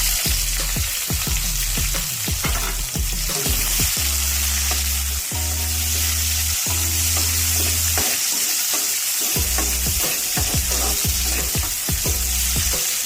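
Chopped capsicum, tomato and onion stir-frying in a pan of red sauce for vegetable pasta, a steady loud sizzle with repeated spatula scrapes and stirring clatter throughout, no talking.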